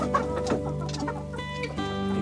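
Agitated hens in a henhouse, unsettled by a cat that has come in, keep up steady overlapping clucking and bursts of calls, close and continuous, with no talk.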